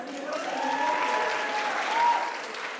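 Sustained applause from a conference audience, a steady wash of clapping hands that swells slightly and fades.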